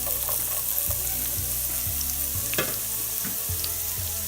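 Garlic and onion sizzle in oil in a frying pan, a steady loud hiss and crackle with occasional soft stirring knocks throughout, no voices.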